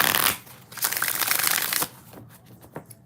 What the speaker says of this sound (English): 4 more shuffles